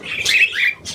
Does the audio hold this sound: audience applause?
no